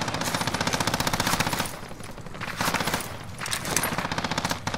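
Rapid automatic gunfire in Call of Duty: Modern Warfare, dense machine-gun bursts near and loud, with a brief lull in the middle before further volleys resume.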